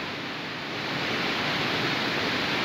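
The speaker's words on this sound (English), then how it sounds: "I have arrived at the waterfall and I'm getting overspray from it." Spray and rushing water from Rhaeadr Dyserth waterfall form a steady, broad hiss close by that swells slightly louder after the first second, with no voices.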